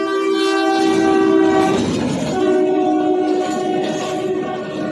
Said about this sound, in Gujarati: ટ્રેન આવે છે, ટ્રાફિકમાં હલવાના છે.